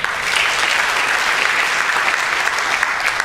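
A seated panel audience breaks into sustained applause, a thick wash of many clapping hands holding steady and fairly loud throughout, with no voices standing out.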